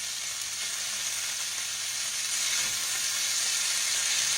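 Chicken drumsticks fry in a pan with a steady, close, hissing sizzle that swells slightly toward the end, alone without talk.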